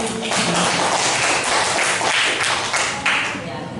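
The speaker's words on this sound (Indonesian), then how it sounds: "Aplaus untuk temannya." A classroom gives a classmate a round of applause, dense, close clapping from many hands that keeps going strongly and then thins toward the end, with voices mixed in.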